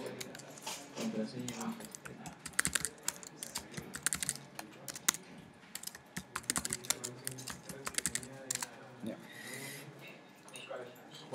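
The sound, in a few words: typing a password on computer keyboard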